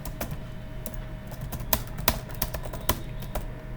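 A command being typed on a computer keyboard, a quiet, irregular patter of close key clicks with a few sharper strokes, alone without talk.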